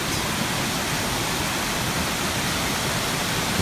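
The Mak Niao mini waterfall in Laos rushes with a dense, unbroken hiss of falling water, loud and even from start to finish with no voices.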